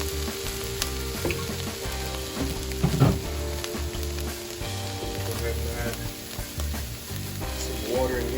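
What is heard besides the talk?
beef and potatoes sizzling in a pan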